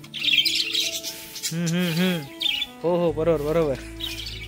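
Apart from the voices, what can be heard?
pet birds chirping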